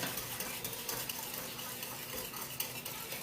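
Cupcake batter being stirred in a bowl, a continuous soft scraping and swishing with small clinks of the utensil against the bowl, quiet and close, no talking.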